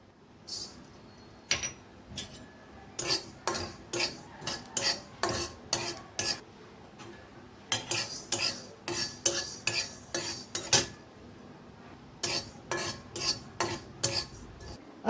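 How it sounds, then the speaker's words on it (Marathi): Coriander seeds dry-roasted and stirred in a pan for chakli bhajani, with repeated scraping and clinking strokes of a spoon against the pan in an uneven rhythm, close and clear, with no talk. "धणे हे अगदी हलके भाजायचे अगदी वासाला तोपर्यंत"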